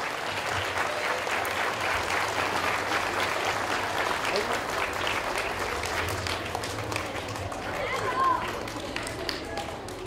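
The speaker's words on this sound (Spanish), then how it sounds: "Fuerte el aplauso para..." A large crowd at an Environment Week event applauds steadily, dense clapping continuing without pause throughout, with a faint murmur of voices mixed in.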